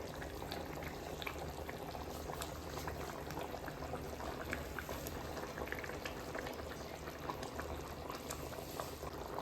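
Okra and fish curry simmering under a lid in a pot, a soft, steady bubbling and gentle sizzle that stays quiet and continuous throughout.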